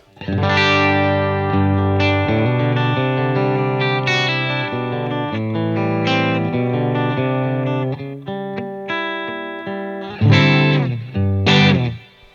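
Electric guitar chords driven through preamp saturation, thick, gritty harmonic texture, sustained and loud, ending in a couple of sharper strummed hits.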